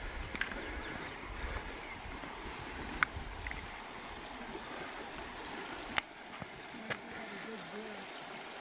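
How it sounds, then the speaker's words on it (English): Steady broadband rush of stream water flowing down a deep gorge near Umoljani village, Bosnia, continuous and moderately loud, with a few faint clicks and a voice murmuring in the background. "Lots of water flowing down."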